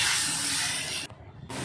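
Ground spice paste of onion, ginger and garlic with chopped tomato hitting a hot pan for a crab curry, a loud steady sizzling hiss that briefly drops out near the end and then resumes.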